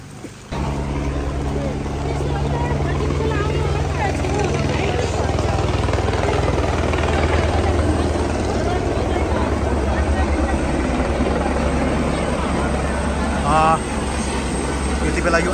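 An army helicopter flies low over a flooded village, its steady, loud rotor thump and engine drone filling the air without a break while people talk nearby.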